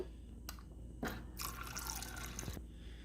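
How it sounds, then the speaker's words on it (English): The door dispenser of an LG LFXS26973S refrigerator starts after a short delay and pours a steady, splashing stream of water into a small cup. It is close and fairly quiet, and a few clicks come before the flow. "There is like half a second delay with the water once you push it."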